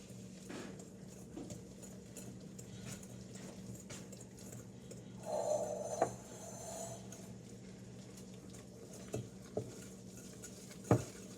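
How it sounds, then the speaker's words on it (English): Blueberry muffin batter is whisked in a bowl, a quiet, irregular patter of tapping and scraping strokes with a few sharper knocks against the bowl, heard alone and fairly close. "Now, we whisk these together."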